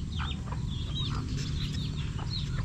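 Hens clucking on a farm, several short chirpy calls scattered over a steady low background rumble, moderately close with no talk.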